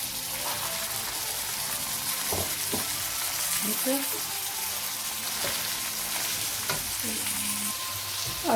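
Chicken, carrot and onion fry together for fried rice, a dense steady sizzle close by, with occasional knocks and scrapes of a utensil stirring the pan spread across the stretch.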